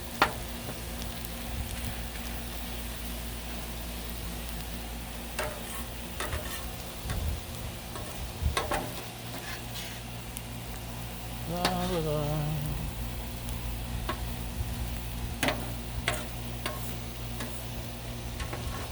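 Vegetables for a stir fry sizzle steadily on a griddle, a soft continuous hiss broken by light scraping and tapping from a spatula, with a brief voice in the middle.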